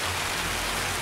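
Steady rain falling in the video game Escape from Tarkov, a constant dense hiss with no distinct drops, moderately quiet and unbroken throughout.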